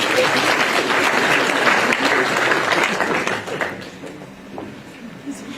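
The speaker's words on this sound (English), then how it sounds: "Let's give him a round of applause, everyone" A conference keynote audience claps loudly and steadily for a volunteer called up to the stage, the applause tapering off in its final seconds.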